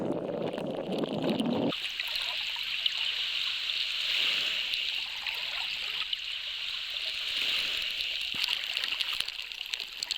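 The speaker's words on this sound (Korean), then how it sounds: "거친 강물을 마주해야 한다." Rough river water rushes steadily at the mouth of the Namdaecheon in Yangyang, where the salmon river meets the sea, a continuous broad hiss of flowing current after a brief low rumble at the start.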